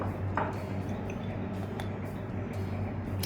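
Eggs beaten in a bowl for an omelette, with garlic paste, curry leaves, oil and salt nearby: a steady, close, wet squishing and light clinking that runs unbroken throughout.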